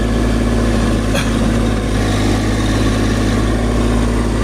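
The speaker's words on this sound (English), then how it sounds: "I'm in 4-wheel drive, low range." Truck engine in 4-wheel drive low range, straining to pull out a huge bush, droning loud and steady throughout with a heavy low hum, close by and without voices.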